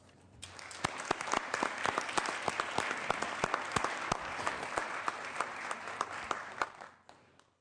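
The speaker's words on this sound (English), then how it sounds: "Please join me in giving a round of applause for 26 years of dedicated public service to the state of California and all Californians to Kathy Creswell." Members on the California Senate floor give a retiring staffer a round of applause, many hands clapping in a full, even burst with some sharper individual claps, swelling in and fading out over several seconds.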